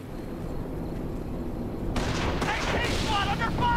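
Gunfire and distant blasts rattle through a World War II battle in the Company of Heroes strategy game, bursts of shots rising over a steady rumbling background, with game voices talking.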